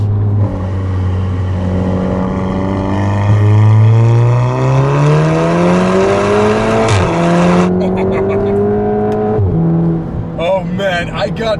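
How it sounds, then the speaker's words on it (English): A 2017 Volkswagen Golf R with an APR Stage 2 tune roars loudly as it accelerates, pitch climbing steadily, with a sharp drop at each upshift before revving up again. "You just gotta love that noise that it makes every single time when you upshift like that"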